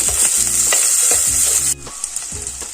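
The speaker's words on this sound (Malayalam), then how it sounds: "ഒരു പച്ചമുളക് ചേർത്ത് കൊടുക്കാം ഇനി ഒരു കിഴങ്ങ് കട്ട് ചെയ്തെടുത്തതാണ് അതും കൂടെ ചേർത്ത് കൊടുക്കാം ഒന്ന് ഇളക്കി കൊടുക്കാം" Green chilli and chopped potato stirred in a sizzling frying pan, with a spoon scraping in slow repeated strokes over a steady close fry.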